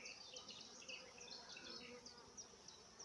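A swarm of roughly ten thousand honeybees hums from just a few feet away, a dense continuous buzz with many overlapping wingbeats, steady and close, with no voices.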